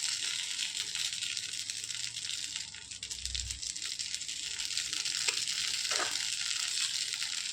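Uttapam shallow-frying in oil on a pan after oil is drizzled around its edges, a steady close sizzle running without a break and with no voices.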